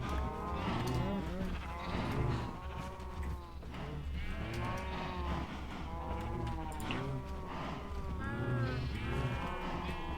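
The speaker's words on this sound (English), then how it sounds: "Take these cows." Several cows moo in Minecraft, with repeated drawn-out lowing calls overlapping at close range, loud and alone without talk.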